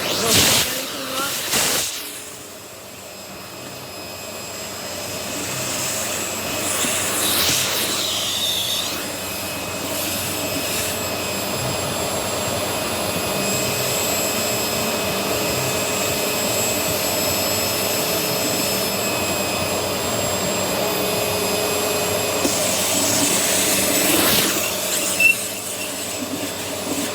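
A household vacuum cleaner running at strong suction, a loud, steady high-pitched whine and roar that holds for nearly half a minute after a brief pause near the start, with occasional bumps from the nozzle.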